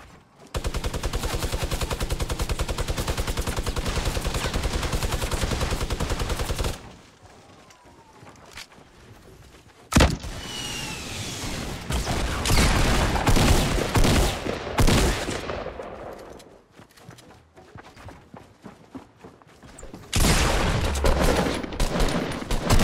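Gunfire in the Fortnite Battle Royale video game: rapid bursts of shots crackle loudly for several seconds, then pause, with single sharp reports and further volleys returning later.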